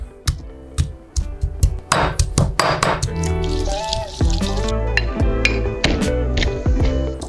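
Shallots and garlic crushed together in a stone mortar for Malaysian fried chicken spice paste, with rapid, uneven pounding and grinding knocks, clinks and squishy scrapes close up, no talking.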